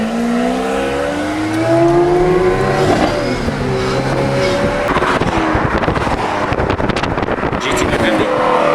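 A loud exotic car engine idling with a harsh burble, then revving and pulling away nearby in a rising, roaring sweep, with people talking excitedly over it.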